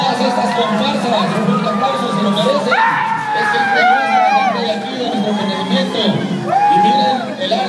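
Spectators at a dance troupe contest in El Carmen, Nariño cheer and whoop loudly throughout, with rising shouts and excited voices layered over a dense crowd roar.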